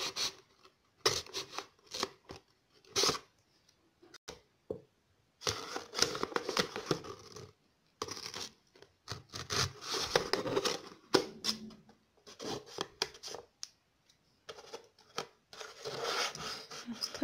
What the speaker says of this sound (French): Et donc ensuite, on va découper ici.